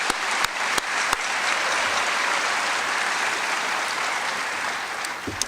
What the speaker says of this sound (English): Let's give our attendance staff a big round of applause